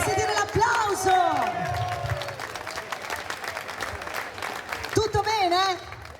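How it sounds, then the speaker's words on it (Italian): Crowd applauding and cheering at an outdoor summer concert in Piazza Manzoni, Jesolo, a dense roar of clapping with whoops and shouts, while a singer's voice calls out over it near the start and end. "Voglio sentire l'applauso!"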